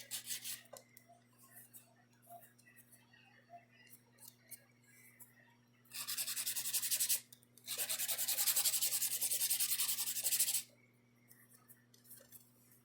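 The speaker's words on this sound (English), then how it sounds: "Just do your hand filing." Hand filing of a nail with a file or buffer: a few soft short rubs, then two long steady bursts of close, loud rasping abrasion separated by a brief pause, with faint scratchy strokes before and after.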